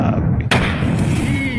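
A huge explosion as a craft lands, shown in footage: a sudden heavy blast that swells into a loud, sustained roar filling the whole clip.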